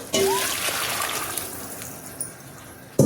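Hot water pours steadily into a pot of rice for biryani with a continuous splashing rush that gradually softens, ending with a couple of small clinks.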